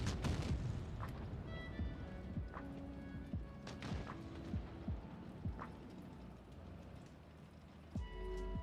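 Tank cannon fire in the World of Tanks Blitz video game: a few deep booming shots stand out over a constant crackling, rain-like battle ambience, with one heavy blast near the end.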